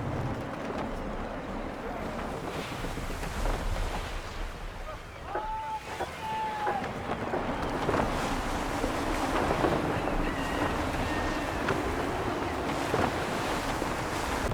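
Gusty wind buffets a sailing ship on open water in Assassin's Creed III, a steady roar of air and waves with creaking rigging and faint tonal calls.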